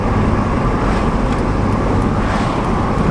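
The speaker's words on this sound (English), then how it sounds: "It's Friday night, so there's definitely a lot of cars on the road." Steady, dense roar of Friday-night road traffic with many cars passing, a continuous loud wash of tire and engine noise with no clear gaps and no talking.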